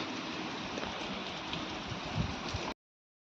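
Heavy morning rain pouring down, a dense, even hiss of drops on surfaces that holds steady at moderate loudness before cutting off abruptly near the end.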